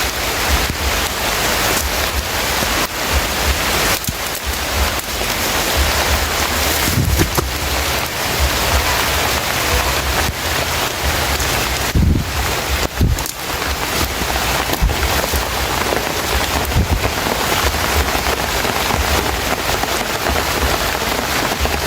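Heavy rain with wind in the mountains, a loud, steady broadband roar of downpour hitting surfaces that never lets up, with a few gusty swells and no voices.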